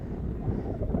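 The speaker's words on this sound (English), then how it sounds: "Sorry, I'm waving around. It's windy." Wind buffets the microphone on a grassy hilltop clearing along the Appalachian Trail, a steady, close, low rumbling roar with no pauses.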